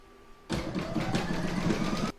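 An embroidery machine stitches quilting lines across a towel topper held in its hoop, a fast steady mechanical whirr that starts abruptly, runs for under two seconds and cuts off cleanly.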